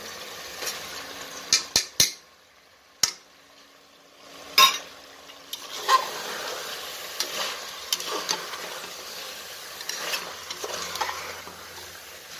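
Soaked, washed rice being stirred in a hot pan for biryani, a steady frying hiss with scraping spoon strokes and a few sharp knocks against the pot, no voices.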